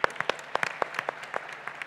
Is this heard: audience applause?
yes